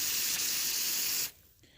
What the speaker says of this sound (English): This is what the spray looks like with just water.